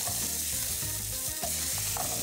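Tomato sizzling in a hot pan before omelet mixture goes in, a steady close frying hiss with occasional stirring scrapes and no talking.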